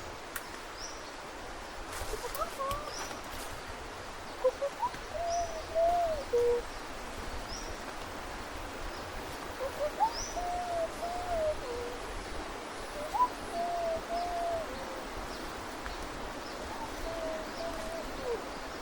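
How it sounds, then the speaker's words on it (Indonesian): Starlings call faintly in a forest along a river trail at Hulu Cai Cibentar: short, scattered chirps and whistles come and go over soft, steady background ambience, sounding distant rather than close. "Burung, ada burung."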